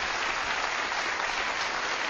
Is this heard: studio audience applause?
yes